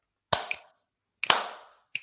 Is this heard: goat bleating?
no